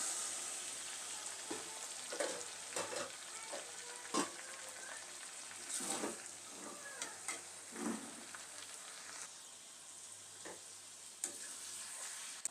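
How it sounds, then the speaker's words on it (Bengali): Goat meat tossed into fried onion and garlic sizzles steadily in the pan while a spoon stirs it, giving irregular scraping knocks over the constant frying hiss. "এখন আস্তে আস্তে মাংসগুলোকে নেড়ে ছেড়ে দেব"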